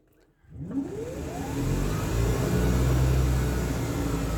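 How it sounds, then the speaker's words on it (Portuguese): The electric motor of a converted Volkswagen Beetle whines up from silence, its pitch sweeping steadily higher as it speeds up, then settles into a loud, steady hum. "Se eu acelerar aqui, ele vai girar o motor lá"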